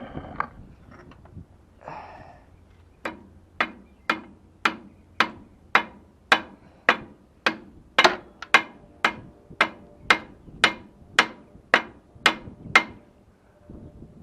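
Steady hammer taps on parts being seated during an IH 66 series tractor clutch and IPTO repair, about eighteen sharp, evenly spaced metallic knocks, close and clear, following a brief stretch of quiet handling noise.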